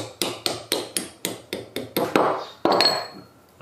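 A lead hammer taps bronze bearings in a steady series of about ten sharp strikes, closely miked, ending with a slightly longer ringing knock.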